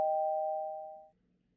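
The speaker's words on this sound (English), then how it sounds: "I'm cut off by the sound of the room's doorbell." A room doorbell in the visual novel game Kimochii Classroom sounds as a single clear electronic ding that rings out and fades away within about a second.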